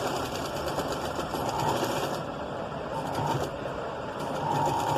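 A sewing machine stitches lace-like trim onto a six-year-old child's blouse fabric with a steady, continuous mechanical whir, close and unbroken, slightly easing and picking up again.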